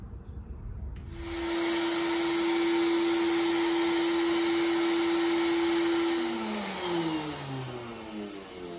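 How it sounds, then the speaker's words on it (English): A vacuum motor switches on after a second of near silence and runs loud and steady with a constant whine on a vinyl record drying prototype, then winds down with a falling pitch near the end. "you don't want to see a minute of vacuuming"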